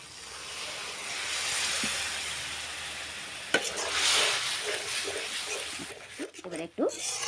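Egg curry masala, fried until the oil separates, sizzles in a pan with a steady broadband hiss until water is poured in, giving a sharp burst of spluttering and crackling bubbling that continues to the end.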